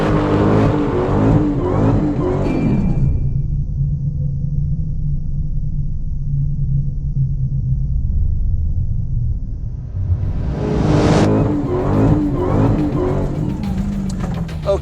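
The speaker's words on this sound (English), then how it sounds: "burnout." A 2020 Dodge Challenger SRT Super Stock does a burnout, its engine roaring loud and close, dropping to a low idle rumble for several seconds, then revving hard again.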